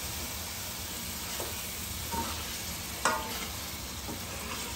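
Mutton liver (kaleji) frying in oil in a pan and being stirred, a steady close sizzle and hiss with soft scraping stir strokes and one sharp clack of the spoon against the pan.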